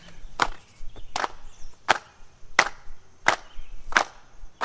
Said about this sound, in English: So clap your hands. Like this.